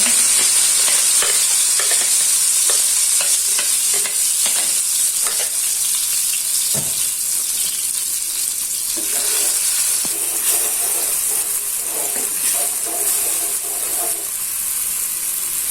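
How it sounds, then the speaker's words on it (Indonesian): Ground spice paste sautéing in heated oil for a chicken dish, a steady close sizzle with scattered clicks and scrapes of stirring throughout, no voices. "Dan di sini sudah saya panaskan minyak. Untuk bumbunya ini saya tumis dulu."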